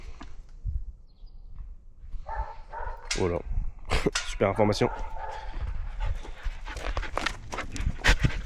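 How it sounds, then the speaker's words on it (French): Several dogs in kennels bark and yelp in bursts, with some whimpering and panting between them and footsteps nearby, while a person talks over the noise. "Là les chiens, oh ils y vont hein. Je te le dis gentiment, ils aiment gueuler ces petits cons."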